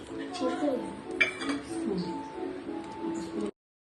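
A spoon scrapes and clinks against a pot while chicken curry masala is stirred, quiet irregular metallic taps and rattles mixed with soft scraping, close by, with a voice speaking underneath.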